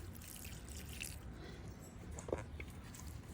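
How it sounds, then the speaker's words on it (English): Water is poured onto freshly transplanted Okinawa sweet potato plants in a garden bed, a soft, close trickle with a few faint drips and splashes, quiet throughout. "I'm adding water"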